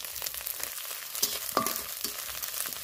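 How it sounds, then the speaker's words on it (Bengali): Green chillies and grated ginger fry in a pan for a lau pata masoor dal, making a brief close sizzle broken by a couple of sharp stirring scrapes, with no talking. "একটু লাল করে ভেজে নেব।"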